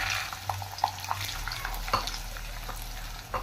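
Peanuts frying in hot oil with chillies in a pan for poha: a soft, steady sizzle broken by small crackling pops and a few light stirring clinks, close and fairly quiet.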